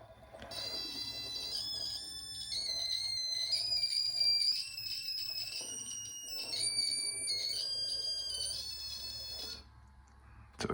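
A piercing electronic buzzer driven by Raspberry Pi PWM sounds almost continuously, its high pitch wavering slightly with brief dips, steady and fairly loud, with no one talking.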